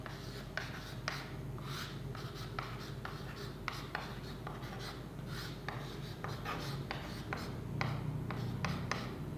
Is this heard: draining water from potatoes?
no